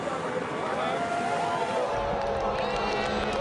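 Spectators at the 2010 Bathurst 1000 touring car race cheer from the top of the mountain as the cars come through, a broad crowd roar mixed with passing race engines and a commentator speaking over it.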